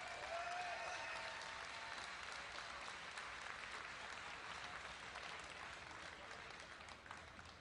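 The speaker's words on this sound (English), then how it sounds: "Huge round of applause again to your champion" A large arena crowd at the Blizzcon 2010 StarCraft grand finals applauds the champion with continuous, dense clapping and faint cheering heard from a distance, steady for several seconds before easing slightly at the end.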